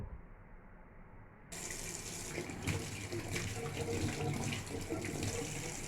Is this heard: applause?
no